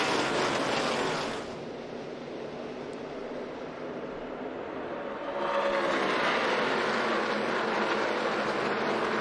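Truck Series race trucks roar past at Atlanta Motor Speedway on the high banks as a loud, continuous engine wash. It dips for a few seconds and then swells again as the pack sweeps by.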